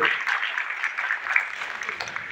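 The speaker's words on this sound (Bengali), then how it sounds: "একটা জোরে করতালি সকলের কাছ থেকে চাইব" An audience at a teacher felicitation ceremony claps in a sustained, fairly loud round of applause, dense and even throughout.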